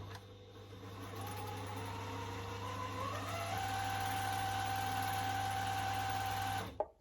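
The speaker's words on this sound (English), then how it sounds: "Slide the bobbin over, switch the machine on and" A Juki TL2200 QVP Mini sewing machine runs steadily while winding a bobbin, a close, continuous motor whir with a low hum and a rising whine, holding for about seven seconds before stopping abruptly.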